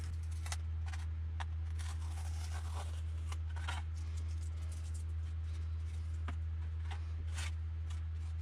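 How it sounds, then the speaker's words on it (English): Tape peeled slowly off a carbon rod on a model glider makes faint, crackly tearing and ticking sounds close by, over a steady low electrical hum. "removing this piece of tape across the carbon rod"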